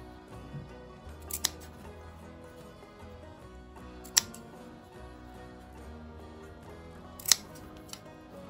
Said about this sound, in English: Or they say you can snip small pointed pieces with cutting shears.